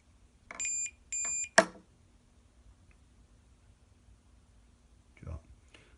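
A gas leak detector's alarm sounds two short, shrill electronic beeps in quick succession, followed by a sharp click. Then it falls mostly quiet, with faint handling noise and a brief voice later.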